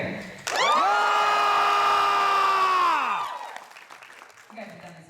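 A Fan Expo audience in Toronto lets out a big practice cheer for Tyler Hoechlin, a sudden, loud, sustained roar of many voices that peaks for a few seconds, then fades into scattered chatter.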